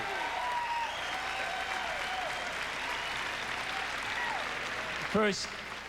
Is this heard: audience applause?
yes